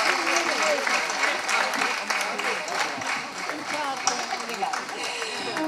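Steady audience applause fills the hall at the opening ceremony of the Barcelos folklore festival, continuous, even clapping from a sizable crowd with faint voices mixed in.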